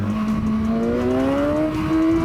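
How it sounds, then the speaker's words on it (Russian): A 2016 BMW S1000XR sport-touring motorcycle accelerates hard on the road. Its engine note climbs steadily in pitch, loud and close, with a smooth rising whine and no talk. "И вот на каждой передаче этот мотоцикл делает чудеса вот от 6 и выше."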